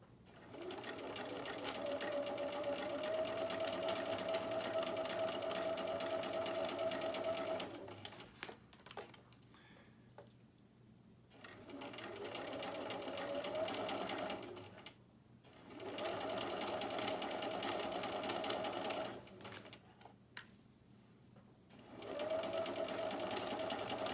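A sewing machine stitches silk organza and chiffon in long steady runs, stopping and restarting several times with brief quiet gaps between bursts, close and moderately loud.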